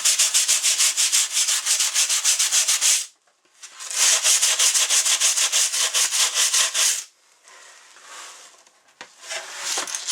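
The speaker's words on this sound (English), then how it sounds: "pretty much scrape this whole form" Steady rhythmic scraping across a deer taxidermy form during form adjustments, close and loud in repeated strokes, with two short pauses before lighter scraping resumes.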